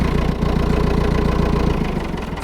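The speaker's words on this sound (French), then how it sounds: "C'est un beau tracteur que vous avez là, hein?" An old tractor engine idles steadily on a Provence farm, loud and close, with a rhythmic low chugging pulse that softens slightly near the end and no voices.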